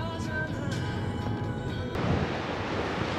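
Ocean waves breaking along the Jeju Island coast make a steady, close, broadband rush with a windy edge that swells slightly near the end, and no voices are heard.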